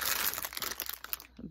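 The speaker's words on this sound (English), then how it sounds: "I guess it's a plastic bag with a cap that you could put water in" A plastic water bag with a cap from a disaster survival kit crinkles and crackles as it is handled close up, a dense burst of crisp rustling that thins out and fades near the end.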